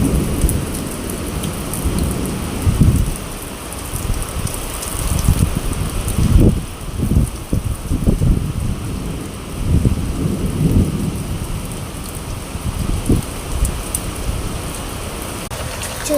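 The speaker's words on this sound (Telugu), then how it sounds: "ఈరోజు అయితే వర్షం దారుణంగా పడుతుంది" Heavy rain pours steadily outside a home while deep rumbles of thunder roll through several times, loud and close, with no one speaking.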